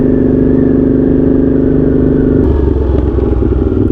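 A Honda GL650 motorcycle on its first ride runs loud and close with a steady engine drone, then the pitch drops and the note turns rougher and more pulsing partway through.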